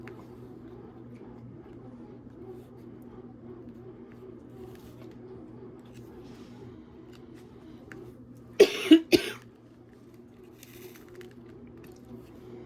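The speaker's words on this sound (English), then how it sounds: "now I got a wet cough" A quick cluster of three wet coughs from a woman who has a chesty cold, loud and close, breaking a long, quiet stretch of low steady hum in an indoor room.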